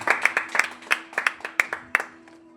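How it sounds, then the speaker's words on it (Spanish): A congregation at a Spanish-language church service claps in a loose, fairly quick rhythm of roughly a dozen distinct, close hand claps, with faint talk underneath. "Den un aplauso fuerte al Señor"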